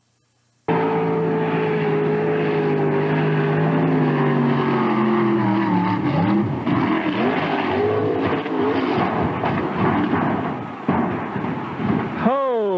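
Engine of a boat on a river, a loud, buzzing motor whose pitch falls and wavers as it runs, with people talking over it, then a sharp rising whine at the very end.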